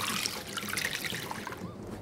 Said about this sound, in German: wenig Wasser